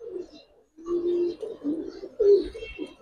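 A male red-tailed Giribaz pigeon gives several close, clear coos in short bursts, separated by brief pauses.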